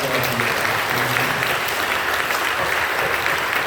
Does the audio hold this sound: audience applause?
yes